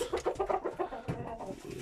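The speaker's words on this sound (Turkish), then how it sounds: "çok güzel bir horoz" A rooster weighing 3 kilos clucks and cackles up close in a quick series of throaty calls, followed by a lower gurgling note.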